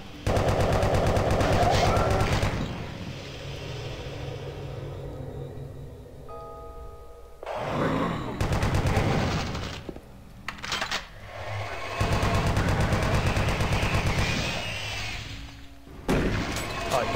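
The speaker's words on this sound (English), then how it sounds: "I love the chain gun." Chain gun fire from a Doom map playtest in a source port, sounding as loud bursts of rapid automatic gunfire with short pauses and quieter game sounds between them.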